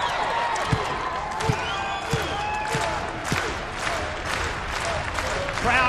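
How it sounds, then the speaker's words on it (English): A wrestling crowd in Scotland cheers for ODB, a steady roar of applause and crowd noise with periodic thuds from the ring, while a commentator talks over it. "Crowd here in Scotland firmly showing their support for ODB"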